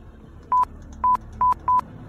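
Four short electronic beeps from a POS terminal keypad as a PIN is entered, evenly pitched and unevenly spaced, faint and near over quiet background room noise.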